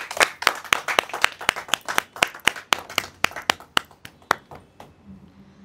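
A small group claps in a quick, steady rhythm, about twenty sharp close hand claps that thin out and stop near the end.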